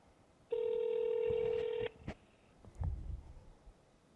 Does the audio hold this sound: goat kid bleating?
no